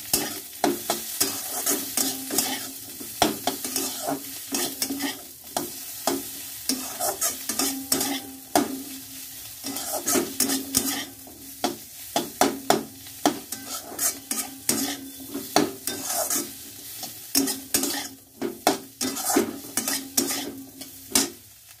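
Vegetables for chowmein fry and get stirred in a pan, a steady sizzle broken by frequent sharp scrapes and clacks of the spatula, loud and close throughout.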